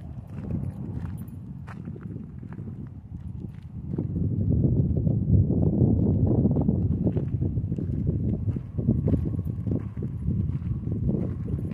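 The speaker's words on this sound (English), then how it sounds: "In the distance, there's a rodeo" Horses walk at a distant rodeo on a windy lakeside day, their hoofbeats a faint, irregular clip-clop partly buried under steady wind rumble.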